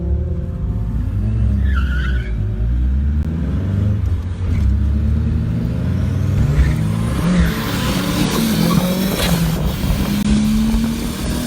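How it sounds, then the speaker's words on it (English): A ute fishtails through a Datsun Outlaws car race, engines roaring steadily throughout with tires skidding and squealing loudly in the second half, dense and close over continuous motor noise. "Look at the ute fishtailing."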